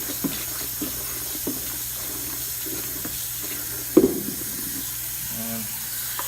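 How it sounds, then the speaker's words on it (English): An air fryer basket being washed in a sink of soapy water with a sponge, soft splashing and sloshing with a few small knocks and one sharper clatter, under a steady background hum. "Then I'll come in here, put it in the soapy water, and the same thing with the soft side of the sponge."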